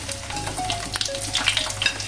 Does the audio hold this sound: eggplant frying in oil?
yes